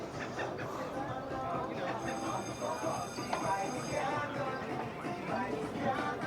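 A tram car in Wildwood, New Jersey rumbles and rolls past nearby, wheels grinding with a high metallic squeal partway through, under faint background voices.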